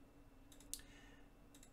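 Several faint, quick mouse clicks while alternate shapes are selected in PowerPoint, sparse and close against a quiet background hum.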